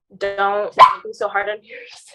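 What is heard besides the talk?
puppy barking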